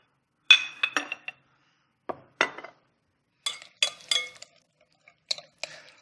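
A spoon or whisk clinks against a bowl while lemon juice and olive oil salad dressing is stirred together, in short irregular bursts of light glassy taps with silent gaps between them.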